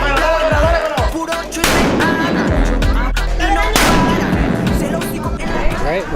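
Street explosions at an exploding hammer festival crack and boom repeatedly, loud and close, with blasts every second or two over a dense, noisy crowd background.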